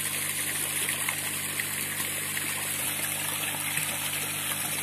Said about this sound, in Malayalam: ഇപ്പൊ കണ്ടോ വെള്ളം നല്ല ഫോഴ്സിൽ വീഴുന്നുണ്ട്